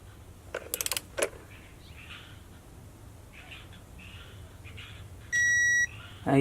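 An electronic torque wrench set to 27 newton meters on Mini Cooper spark plugs gives one steady, clear electronic beep lasting about half a second, after a few light metallic clicks and rattles.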